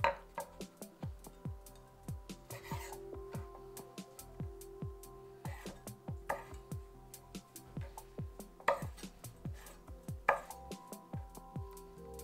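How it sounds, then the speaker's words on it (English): A knife chops wood ear mushrooms into pieces on a cutting board for Vietnamese pork aspic. The close, quiet taps come in a rapid, fairly regular rhythm with a few lighter clinks. "I like cutting the wood ear mushrooms into even strips first,"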